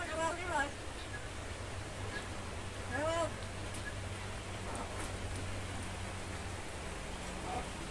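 Steady wash of rain falling, a soft constant hiss throughout, with short bird chirps and a voice speaking briefly over it.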